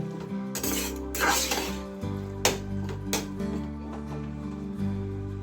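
Capsicum sandwich filling being mixed in a bowl, a steady scraping and clinking of a spoon against the dish with a few sharper knocks, close by with no talk.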